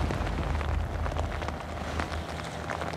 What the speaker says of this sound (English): Then it starts to rain.